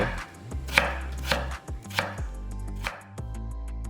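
A knife slices a 100 g potato, quartered or halved, into 0.3 cm slices on a cutting board, with several sharp close chops at an uneven rhythm.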